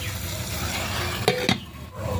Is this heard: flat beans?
yes